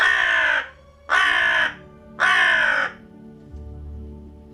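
A crow gives three loud, harsh caws in even succession, close and clear, each about half a second long, standing in for the raven of Edgar Allan Poe's poem, followed by quiet background.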